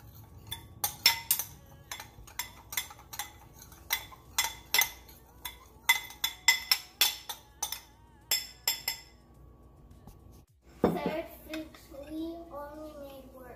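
A utensil clinks and scrapes against a bowl while mixing seasonings for a Jamaican Sunday dinner, a long run of sharp rhythmic knocks, close and fairly loud, ending before a voice speaks.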